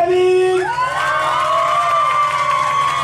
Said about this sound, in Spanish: ¡Aplauso para Kevin!